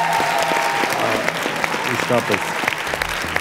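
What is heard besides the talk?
audience applause for the participants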